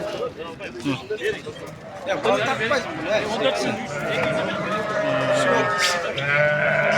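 Black sheep bleat at a livestock sale, several loud, wavering cries overlapping one another, with people chattering and talking close by throughout.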